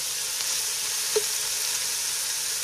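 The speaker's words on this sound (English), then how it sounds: "on a very high flame, I'm just going to stir fry it until they are golden" Taro root (arvi) stir-frying in hot oil over a very high flame gives a steady, close sizzle with a brief clink partway through.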